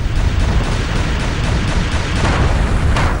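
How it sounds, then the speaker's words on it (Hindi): Missile strikes in war-torn Syria: a dense, loud rumble of blasts with scattered sharper impacts breaking through, sustained throughout and without speech. "मिसाइल हमले हैं,"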